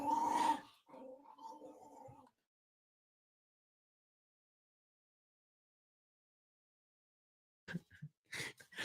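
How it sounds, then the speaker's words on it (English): A dog gives a couple of low, grumbling growls close by, a short burst followed by a longer rumbling stretch, then a long silence before a few brief sounds return at the end. "Damn dog gonna cuss me"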